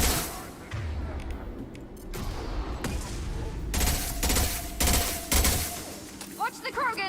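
Rapid bursts of gunfire and booming shots in the video game Mass Effect 2 Legendary Edition, continuous and fairly loud throughout, with overlapping automatic fire and a few sharper blasts near the end.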